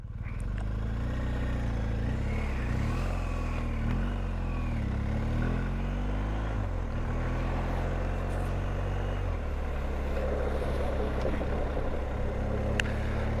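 BMW motorcycle engine while riding on a cold day, a steady low drone with pitch rising and falling through gear changes, heard close over wind noise.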